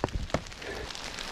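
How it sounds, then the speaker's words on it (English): Hailstones strike an umbrella on a mountain hiking trail, a few sharp, close taps standing out over a continuous faint patter. "Look at that fucking hail."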